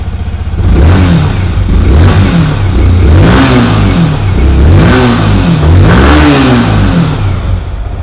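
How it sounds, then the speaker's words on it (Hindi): A Yamaha R15 V4 motorcycle from 2023 starts and revs through its exhaust, giving several loud, close rising-and-falling throttle blips over a steady idle, with no talking. "इस बाइक को स्टार्ट करते हैं और हम लोग इस बाइक का एग्जॉस्ट साउंड को सुनते हैं"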